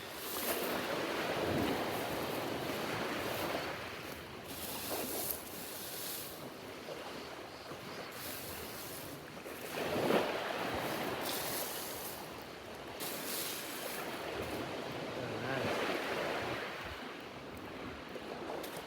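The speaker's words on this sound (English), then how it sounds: "The tide's coming, so I'm not going to turn my back on the ocean." Ocean waves washing onto a pebble beach as the tide comes in, broad rolling surges every few seconds with wind buffeting the microphone, no voices.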